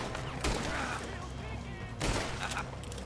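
Gunfire in Red Dead Redemption 2: two loud, sharp shots about a second and a half apart, each with a brief ringing echo over a busy background of game sound.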